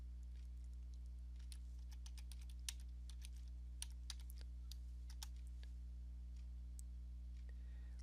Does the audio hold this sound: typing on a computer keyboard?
yes